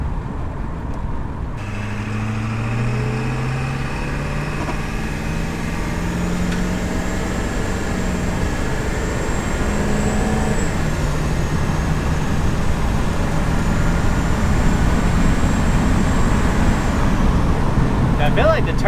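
A 7.3 diesel 4x4 van drones steadily from inside the cab while driving, its engine pitch climbing and shifting through the gears under a faint turbo whistle, with a loud, continuous road roar underneath.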